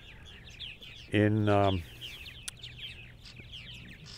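Purple martins, North America's largest swallow, chatter in faint continuous chirps and warbles outdoors, broken by a short, loud burst of low croaking calls up close near the middle; a single spoken word passes briefly.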